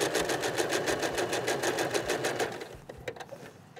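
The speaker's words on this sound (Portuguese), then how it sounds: "Você vai na máquina e você vai passar somente uma costura aqui." A sewing machine stitches a single seam on fabric squares for a flying geese quilt block, a fast, even close-up rattle of needle strokes that slows and stops near the end.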